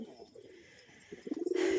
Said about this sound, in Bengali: এই যে দেখুন দেশি পায়রা